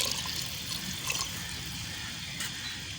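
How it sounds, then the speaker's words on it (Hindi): Leftover water from boiled chickpeas pours into a cooking pot, a steady, close splashing trickle lasting the whole time. "जो इनका पानी बचा था ना वो भी बीच में डाल दी"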